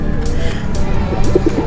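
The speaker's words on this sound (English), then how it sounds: "Okay, we attracted too many birds." Pigeons cooing as they gather for fries at a family picnic, soft low coos rising near the end over steady outdoor background noise and distant traffic.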